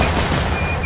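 Sustained rapid gunfire from a video game, a dense unbroken burst of automatic shots filling the whole moment, loud and close with no pauses.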